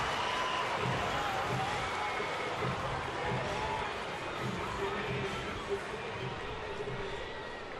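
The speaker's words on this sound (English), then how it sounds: "Big cheer for Jason Hayward, who will come on and pinch hit." A baseball crowd at an Atlanta Braves home game against Washington cheers for pinch hitter Jason Heyward: a broad, continuous roar of voices that holds steady, fairly distant, throughout.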